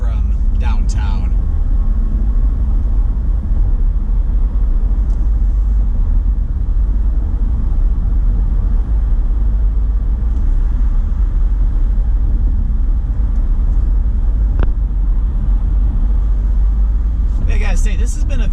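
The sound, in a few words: car driving on Lake Shore Drive, Chicago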